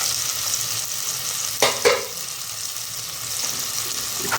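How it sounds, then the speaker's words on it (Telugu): Half a cup of tomatoes simmers in a pan with a steady, soft sizzle, broken midway by two quick scraping stirs. "1/2 కప్ టమాటో ఇది 2 కలిపి ఇలా కాసేపు మగ్గనిద్దామండి సిమ్లో పెట్టి."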